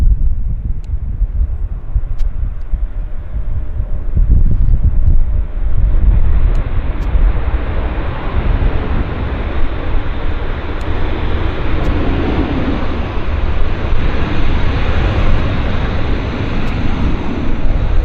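WestJet airliner rolls out after landing at Vancouver Airport, a broad, steady roar of engine and rushing air heard at a distance, swelling slightly and holding for many seconds.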